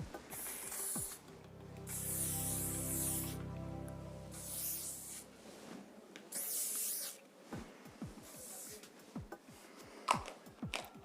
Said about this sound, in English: And now I'm gonna actually use a little bit of a hairspray.